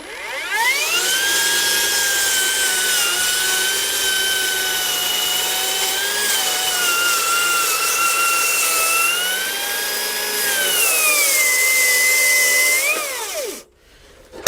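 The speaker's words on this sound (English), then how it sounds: "I'm going to try a plunge cut as if I was dropping in onto a line" A large cordless circular saw plunges into and cuts through a structural wooden beam salvaged from an old ship, with a loud, sustained whine that holds steady through the cut before spinning down near the end.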